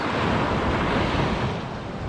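Sea waves wash onto the shore at a quiet off-season winter resort village in Halkidiki, Greece, heard as a continuous, fairly loud rushing surf with wind noise, steady and without voices.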